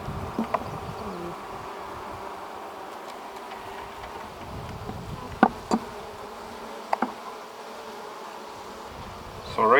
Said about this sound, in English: you'll see the bees come around her